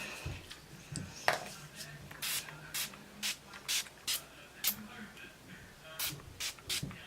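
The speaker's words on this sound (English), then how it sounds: "I'm gonna set the face with the Slick Makeup Setting Spray from Urban Decay" Repeated short bursts of Urban Decay makeup setting spray hissing close by as a fine mist, about a dozen quick pumps in a steady rhythm.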